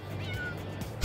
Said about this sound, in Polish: Kot biega po podwórku